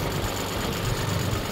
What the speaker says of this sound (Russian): Трактор на месте разворачивается.